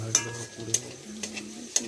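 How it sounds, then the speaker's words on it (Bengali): Sliced onions for biryani fry in hot oil until reddish brown, a soft steady sizzle close by, punctuated by four sharp clicks of a utensil stirring against the pan. "বেরেস্তাটা লাল লাল ভাজা হয়ে গেছে, পেঁয়াজটা এটা তুলে নেব।"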